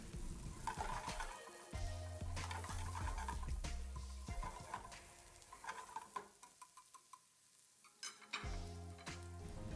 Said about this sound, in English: I'm putting some carrot. Let's continue sauteing for 15 to 20 seconds.